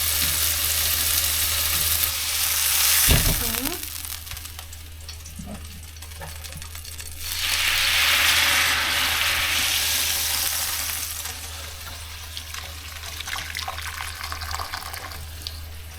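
Four beaten eggs are poured into a hot pan and sizzle loudly, with bursts of frying hiss that swell and fade over a steady low hum, with no talking.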